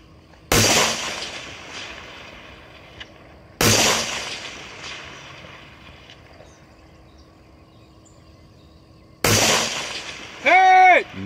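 Sharp, loud gunshots from long-range rifle shooting at a 3-gun match, three separate reports with echoing tails spaced several seconds apart, the last followed by a brief ringing steel-target ping.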